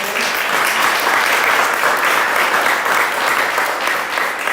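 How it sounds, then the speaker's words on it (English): A loud, dense round of audience applause at a mental health festival event, sustained and even throughout without a break. "I want to give him a round of applause"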